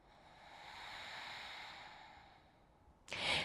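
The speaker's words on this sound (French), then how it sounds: "Pense à bien respirer." Slow, soft breathing during a gentle yoga stretch, one long airy exhale swelling and fading, then a brief sharper breath at the end, close and quiet.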